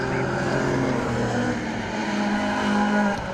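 A rallycross car races at Croft circuit during a British Rallycross Championship retro round, its engine roaring loud and close with revs rising and falling and tires scrabbling as the rear slides, while a commentator talks over it.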